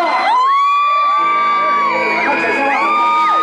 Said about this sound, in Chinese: 让我们掌声欢迎站着跟坐下一样高的唐胖虎啊